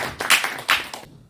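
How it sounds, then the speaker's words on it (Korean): An audience at a community lecture concert gives brief applause to welcome a member of Korea's National Assembly. It is a short, uneven burst of hand claps with a few louder peaks, and it fades out within about a second. "여러분 뜨거운 박수로 한번"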